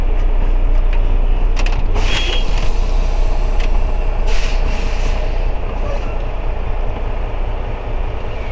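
A tractor truck backs up to a trailer for coupling, its loud diesel engine rumbling close and steady, with sharp bursts of air-brake hiss along the way.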